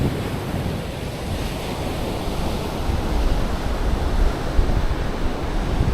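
Ocean surf rolls onto Hoi An beach in Vietnam as a constant, dense wash of breaking waves mixed with wind buffeting the microphone.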